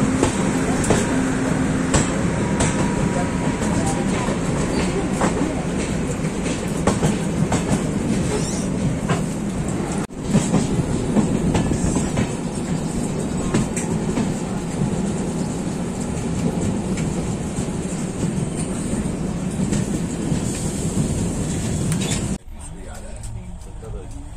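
Steady rumble and rhythmic clatter of the 16351 CSMT–Nagercoil Balaji Express, an Indian express train, heard from inside a 3AC sleeper coach. The noise runs continuously and drops suddenly near the end, with someone talking over it.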